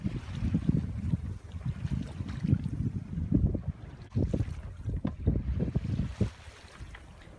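A sailboat under way on a calm, sunny day among mountains, with steady rumbling wind buffeting the microphone and soft water wash along the hull, continuous and fairly close.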